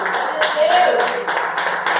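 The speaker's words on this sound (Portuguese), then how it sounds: "Se você crê, aplaude e glorifique esse Deus Todo-Poderoso." A church congregation at a monthly communion service applauds in a steady, dense patter of clapping that runs throughout, with a voice speaking over it.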